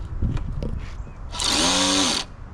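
A DeWalt power tool strains to break a bolt loose during an oil pressure sensor gasket job, with a few knocks and clicks first, then one loud, sustained whirring burst of under a second before it stops.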